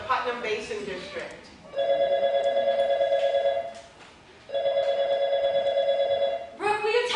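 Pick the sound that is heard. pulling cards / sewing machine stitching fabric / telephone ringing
telephone ringing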